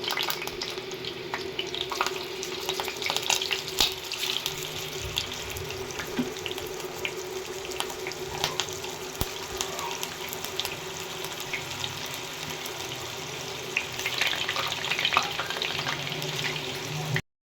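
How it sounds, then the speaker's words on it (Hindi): Chicken reshmi chapli kababs sizzle in hot oil, a steady dense crackle and hiss lasting throughout at close range, with a low hum beneath and no talking. "ऑयल ले लिया, अब इसमें जो है हम अपने चपली कबाब वो इसमें डाल देंगे"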